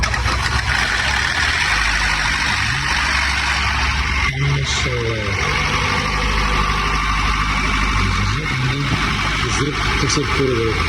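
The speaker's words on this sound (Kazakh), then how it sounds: "Моторымызды жинап болдық, оталдыруға дайын тұр. Ал енді бисмиллах деп холодный запуск" A freshly rebuilt 2.0-litre engine of a 2012 Kia Optima cold-starts, turns over and settles into a steady idle, running loud and close throughout with a few faint voices underneath.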